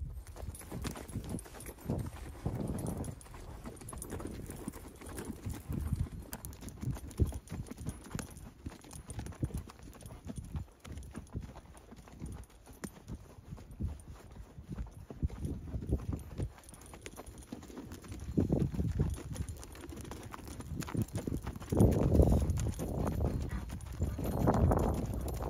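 Horses ridden across ranch ground during spring cattle work plod with a steady, continuous clip-clop of hooves, close and even in rhythm, growing a little louder toward the end.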